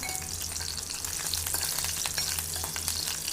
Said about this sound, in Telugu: ఆవాలు జీలకర్ర వెల్లుల్లి ఎండుమిరపకాయలు పచ్చిమిరపకాయలు వేసానండి కొంచెం కరివేపాకు కూడా వేసాను